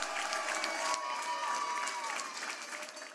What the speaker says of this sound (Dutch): Nog iedere keer een daverend applaus voor ons jeugdprinsenpaar.